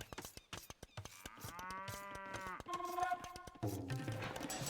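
Cows mooing in a real-time strategy game, several drawn-out harmonic moos in succession alongside sharp rhythmic clicks and taps of gameplay, fairly faint overall with no talk.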